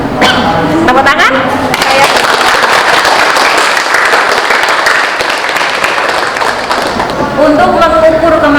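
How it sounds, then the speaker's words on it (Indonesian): A classroom bursts into loud, sustained applause from many students, dense clapping with cheers and voices mixed in, fading slightly before voices rise again at the end. "Tepuk tangan."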